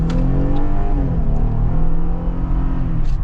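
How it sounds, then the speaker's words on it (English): A 2023 Jeep Wrangler Rubicon with a V6 engine accelerating at full throttle at high elevation, a loud steady engine drone rising in pitch from inside the cabin. "And you guys will see here, full throttle."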